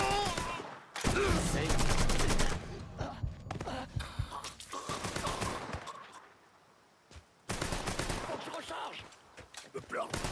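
Video game gunfire from Mafia III erupts in loud, dense bursts of shots with quieter stretches between them, and a voice grunts and speaks over the action.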